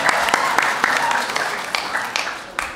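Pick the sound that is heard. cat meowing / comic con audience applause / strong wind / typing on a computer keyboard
comic con audience applause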